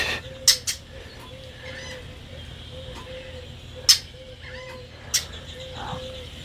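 Red-winged blackbirds calling outdoors, a few sharp, brief calls standing out over a steady faint background hum and low ambient noise.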